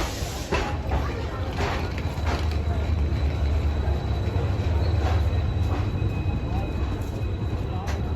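Begumpura Express 12237 pulling into a busy platform at Lucknow, a steady loud low rumble of rolling wagons with faint creaks, squeals and station murmur throughout.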